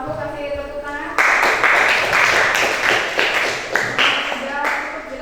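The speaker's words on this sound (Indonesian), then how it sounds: "terima kasih untuk Mas Alfu, kasih tepuk tangan." Students clapping in a classroom lesson, a short burst of close, fairly loud hand claps that starts suddenly after a moment of voice and continues unevenly to the end.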